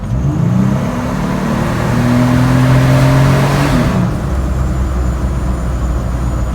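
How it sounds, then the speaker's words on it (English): Ripp supercharged Gen 1 Jeep Wrangler JK accelerating hard through second gear, a loud steady engine roar with rising pitch and supercharger whine, then backing off into a lower cruising drone. "We're going to do a second gear pull."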